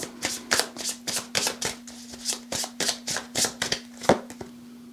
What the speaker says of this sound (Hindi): 2 कार्ड और लूंगी। ओके 2 कार्ड और चाहिए हमें।